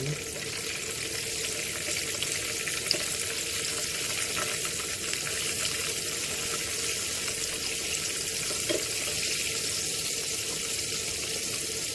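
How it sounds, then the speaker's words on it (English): Chicken fries in oil with a constant, even bubbling hiss that sounds almost like running water, steady and unbroken throughout. "Now my chicken has been frying for about 5 minutes on each side"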